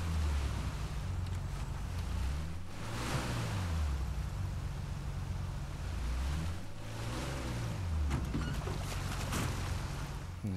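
A boat motors through a lock gate in the video game Uncharted 4. Its engine drones low and steady, its pitch rising and falling in slow sweeps, over washing water and wind noise, with no voices.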